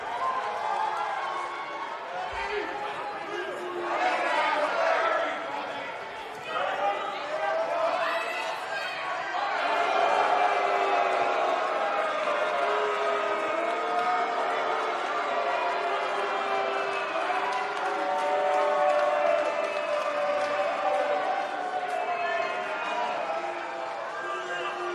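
A sold-out arena crowd murmurs and cheers in WWE 2K19, a broad, sustained roar of chatter that rises and falls over about twenty-five seconds, with commentators talking over it.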